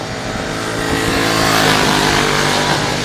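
Racing motorcycles from the F900R class at Oulton Park during a British Superbikes race weekend pass with a loud, continuous engine roar that swells slightly toward the middle and holds steady, with no talk.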